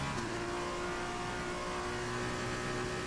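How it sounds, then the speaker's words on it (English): Formula 2 race car engines in the F1 2019 video game, a steady high-pitched engine drone held throughout at moderate level with no talk. "just let you listen to the sound of these F2 cars"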